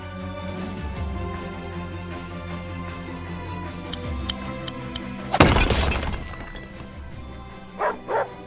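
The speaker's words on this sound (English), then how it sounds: "Woof woof woof woof woof woof woof." A dog in the video game Wargroove barks twice in quick succession near the end, after a loud shattering crash, with game music and effects running underneath.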